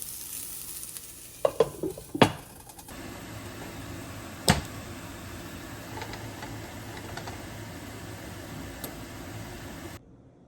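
Meat frying in a pan seasoned with freshly ground black pepper, a continuous close sizzle with a few sharp utensil clicks and scrapes early on, then steady hissing until it cuts off.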